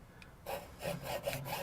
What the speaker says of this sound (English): it's best to use a hacksaw